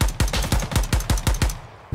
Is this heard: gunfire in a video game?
yes